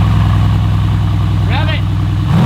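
A car engine idles with a steady low rumble, close and continuous, while a person speaks briefly over it and the engine note lifts slightly at the end.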